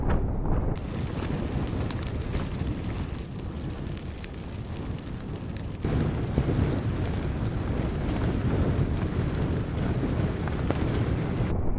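Strong wind buffets a tent on Svalbard at night during winter, a loud continuous roaring rumble with gusty surges and fabric flapping, no voices.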